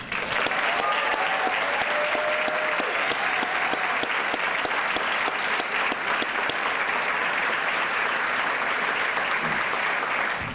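Sustained audience applause at a graduation awards ceremony for a college of health sciences, steady and dense clapping from a large crowd continuing for several seconds without a break.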